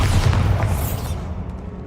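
Hogwarts Legacy Bombarda spell blasting a barricaded archway: a loud, deep, rumbling explosion that fills the clip and slowly fades, with no voices.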